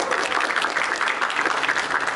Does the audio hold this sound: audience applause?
yes